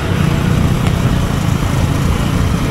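A Yamaha R15M motorcycle drones steadily at a constant pace under heavy wind rumble, the engine loud and close without clear gear changes.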